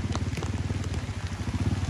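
Rain falls steadily outdoors during a downpour, a dense continuous patter with a low rumbling wash underneath, close to the listener and with no voices.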